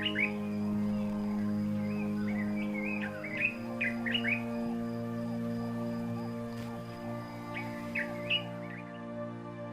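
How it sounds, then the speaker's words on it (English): A dark-capped bulbul in the African wild calls in short, bright chirping phrases, a quick cluster early on and another later, over a steady low background hum. "This is a dark-capped bulbul."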